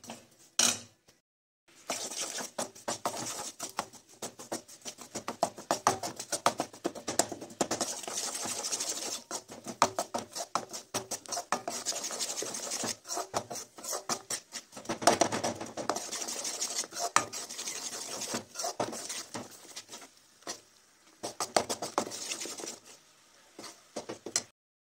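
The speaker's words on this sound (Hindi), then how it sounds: "वो भी इसी तरह से हिलाते रहना है ताकि कुछ जले ना" A spoon scraping and stirring melting jaggery with grated coconut in a pan, a long run of quick, fairly soft clattering scrapes with brief pauses and no talking.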